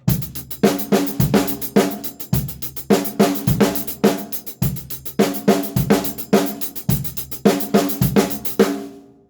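A close, loud drum kit loops a hi-hat pattern over kick and snare, with an extra snare stroke landing on the e of beat three. The bars repeat evenly with crisp cymbal ticks and no voices.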